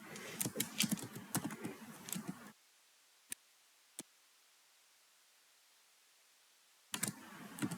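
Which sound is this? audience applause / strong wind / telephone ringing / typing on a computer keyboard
typing on a computer keyboard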